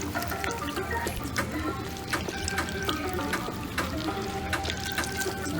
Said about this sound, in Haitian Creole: OK, on retire tout l'eau.